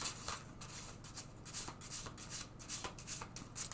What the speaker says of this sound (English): Let's give them a good shuffle.